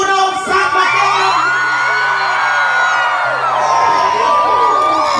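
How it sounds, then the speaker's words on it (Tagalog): A big crowd at a barangay gathering in Mateo, shouting, whooping and cheering loudly together as the mayor arrives, with excited yells rising and falling in a continuous roar. "Grabe mga pangas, kanya-kanyang sigawan, kanya-kanyang hiyawan."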